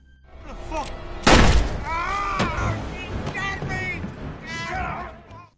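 A single loud, sharp gunshot cuts through a tense film scene, followed by a fainter crack, with voices and music-like tones around it.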